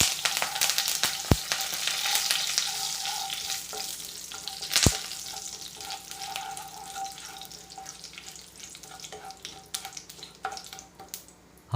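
Mustard seeds, cumin, hing and curry leaves sizzling in hot oil, a bright crackling hiss with sharp pops and a couple of loud utensil knocks, close and gradually settling, no talking.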